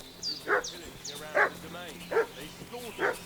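A dog in the medieval village of Kingdom Come: Deliverance II barks repeatedly at a moderate distance, about four evenly spaced bursts with faint higher yips between them.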